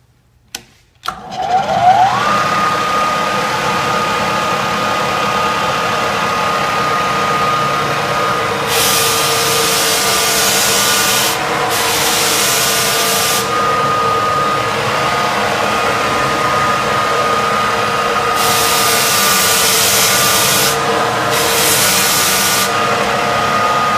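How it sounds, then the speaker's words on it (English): A Lagler Hummel drum floor sander spins up and runs steadily, a loud continuous motor drone with a rising whine at the start and bursts of bright hiss as the drum bites into the wood floor, alone with no talk. "So we're just going to sand and we'll see how the wheels are."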